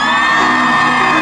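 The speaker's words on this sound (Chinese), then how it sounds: "来，再一次尖叫声！" A crowd of fans screams and whoops on cue at a boy band's debut-day press event, a continuous loud wall of high yelling that holds steady for just over a second.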